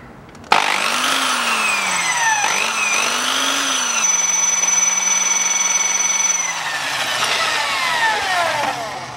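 Small 1.8 mm drill bit drilling out a seized stud while removing the turbo on a Land Rover Discovery 3, a loud steady whining drill with pitch dips as the bit bites, running continuously and alone.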